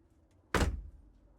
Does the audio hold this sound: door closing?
yes